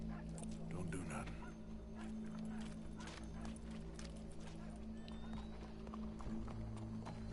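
Horse hooves clip-clopping in the Red Dead Redemption 2 video game, a quiet, steady hoof rhythm under a low hum, with speech mixed in.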